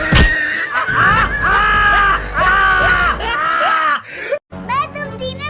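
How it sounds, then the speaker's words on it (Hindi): Shrill, repeated screaming from several voices in bursts, loud and close, mixed with childlike chatter and snickering, followed by a brief silence and more high-pitched yelling. "अरे ये क्यों चिल्ला रहे हैं?"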